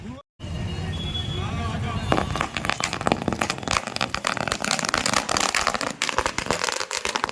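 Rapid, irregular firecracker bursts crackle and pop loudly over the hubbub of a celebrating crowd in Hingoli, continuing in an uneven string.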